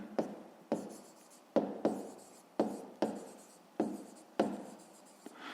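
Pen strokes scratch across paper while a maths solution is written out by hand, about eight distinct bursts, each starting sharply and trailing off, close and clear with no talk.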